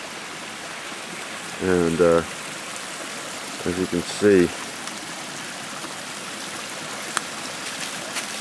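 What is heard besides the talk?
mountain brook flowing with small waterfalls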